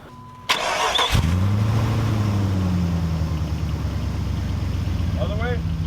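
A car engine cranks and catches, then idles steadily and loudly close by with a low, even hum after a brief startup burst, during work on the steering.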